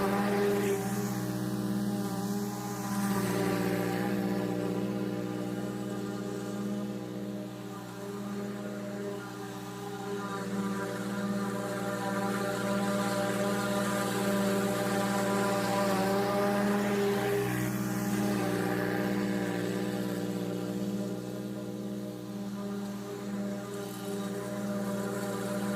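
A 2022 Dixie Chopper Xcaliber industrial mower cuts down tall farm growth, its engine a steady, loud droning hum with layered harmonics that holds on without a break, dipping slightly now and then under load.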